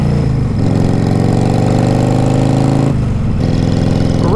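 A motorcycle engine idling close by, a loud steady mechanical rumble with a brief dip and quick rev near the end.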